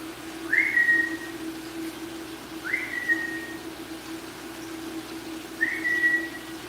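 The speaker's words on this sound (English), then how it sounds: "Watch, I'll whistle to him, he'll come out." A person whistles three times near a goldfish greenhouse, each a short rising then held note spaced a couple of seconds apart, clear and close over a steady low hum.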